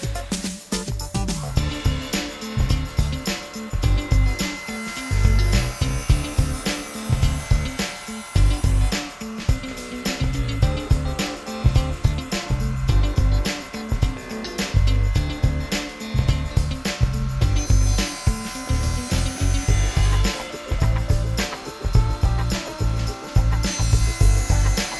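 Hand saw cutting a series of tenon cuts in wood for a Morris style armchair, rapid rhythmic back-and-forth rasping strokes, close and loud, continuing steadily with brief pauses between cuts.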